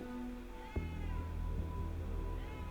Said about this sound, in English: Also, I think I heard a cat.